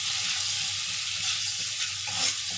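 Tomato paste frying and being stirred in a pan for an egg and potato curry, a steady close sizzle with soft scraping movements running throughout, no voices.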